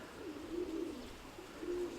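Young pigeons coo softly in a loft, two low, faint cooing calls repeated against quiet background noise.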